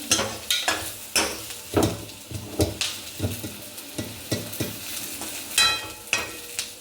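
Onions and mutton fry and get stirred in a pan, with a soft sizzle under repeated close scraping and clattering strokes of the spoon, no voices.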